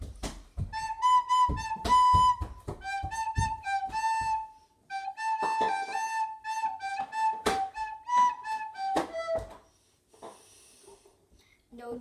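A song is played on a recorder as a string of clear, close, breathy notes in short phrases, with brief gaps and a few thumps between them.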